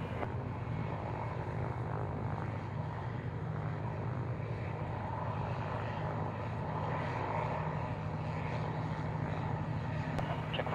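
A steady, loud engine roar from an Antonov aircraft departing at the Waddington airshow continues for about eleven seconds at a constant level, with no clear rise or fade.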